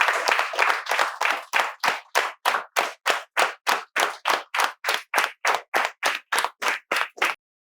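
A room of spoken English course attendees claps in welcome, starting as dense overlapping applause and settling into about twenty loud, evenly spaced unison claps that stop abruptly.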